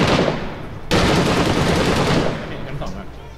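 Heavy automatic gunfire from a Middle East shooter video game, a dense sustained burst that cuts in sharply and keeps rattling loud and close before tailing off slightly, with voices faintly mixed in.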